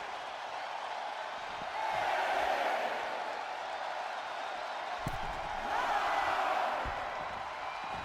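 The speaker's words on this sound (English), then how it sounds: "Lexus King playing to the crowd now." A wrestling crowd in the WWE 2K25 video game cheers in a steady distant roar that swells twice into louder waves of whooping, with a sharp slam partway through.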